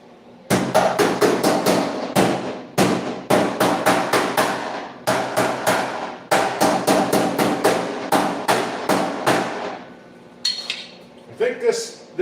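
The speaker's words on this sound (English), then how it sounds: "I'm gonna grab my body hammer and start hammering that in place a little bit" Repeated sharp metallic strikes of a body hammer on a custom Lamborghini hood panel, coming in rapid bursts of several blows each with short gaps, loud and close, ending in a few scattered taps.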